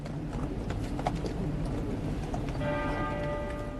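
Police horses' hooves clip-clop at a steady walking pace at the head of a funeral procession in London, a continuous dense patter over a broad crowd murmur, with a bell ringing faintly in the background.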